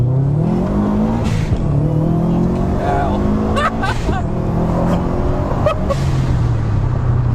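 A 500-horsepower car accelerating hard from inside the cabin, the engine climbing in pitch through several gear changes with brief dips between shifts, loud and continuous.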